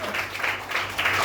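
Children at a Sunday school camp clap their hands together in a quick, loud, scattered burst of applause that lasts just over a second.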